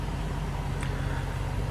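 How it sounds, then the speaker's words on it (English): A 2019 Range Rover Sport Supercharged V8 Dynamic idles smoothly, a steady low hum with a faint rhythmic pulse, close and continuous, with no talk over it. "So nice and smooth running engine."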